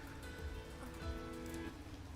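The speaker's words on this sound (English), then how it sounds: "The rain's gotten even harder than before." Heavy rain falls in a video game, a soft steady patter and hiss that stays faint and continuous throughout.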